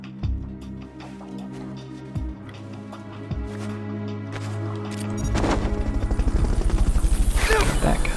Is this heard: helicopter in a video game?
yes